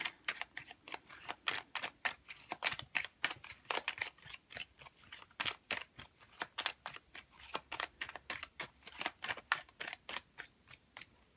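Tarot cards being shuffled and drawn: a quick, steady run of crisp snapping clicks, close and fairly quiet, with no talking.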